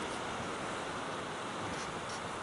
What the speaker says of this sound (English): See the water just rolling in.